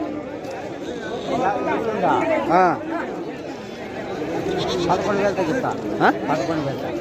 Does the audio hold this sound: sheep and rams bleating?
yes